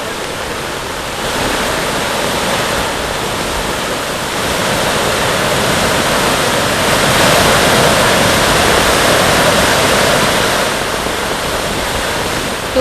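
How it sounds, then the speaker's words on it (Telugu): Heavy floodwater in Karimnagar, near the Maneru stream bank after heavy rain, roars in a loud, continuous broadband rush that holds steady and swells slightly midway, with no voices over it. "ఇటువైపు చూస్తుంటే వరద బీభత్సం ఏ స్థాయిలో ఉన్నది అనేది తెలుస్తోంది"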